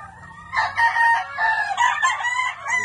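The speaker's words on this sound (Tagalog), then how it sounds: "Limang Gilmore na inahin." Gilmore gamefowl hens cluck and crow in a busy, overlapping chorus, close and fairly loud, with a faint low rumble underneath.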